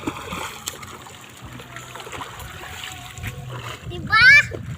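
Child splashes in water while swimming, soft sloshing and splatter under ongoing chatter between a child and an adult, ending with a brief squeal.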